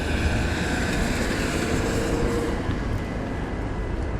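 Diesel locomotive 1552 rumbling past at close range, a steady loud low roar with faint rail clatter that eases slightly toward the end; no one talks.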